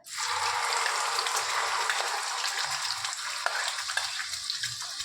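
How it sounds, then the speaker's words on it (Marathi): Spice masala for a spicy Maharashtrian egg curry hitting hot oil in a pan, giving a steady, loud broadband sizzle that holds for several seconds with faint stirring scrapes underneath and no voices. "तेल तापले, आता हे सगळा मसाला ओतून घेऊया।"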